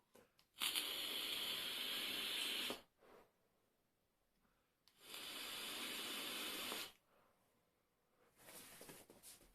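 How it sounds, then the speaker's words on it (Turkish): A Smok RPM80 Pro e-cigarette kit set to 60 watts with the airflow fully open is puffed in two long, loud hissing draws of about two seconds each, separated by quiet pauses. "Hava kanalları şöyle bir buharlayalım"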